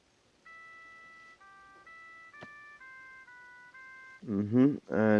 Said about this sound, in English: Ringtone number 2.